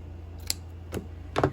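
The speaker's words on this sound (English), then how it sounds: "let me find some lace that I want to use. I'm just going to cut a piece off here." Scissors snipping through a piece of lace for a folio craft project, heard as three short crisp cuts close by in a quiet room.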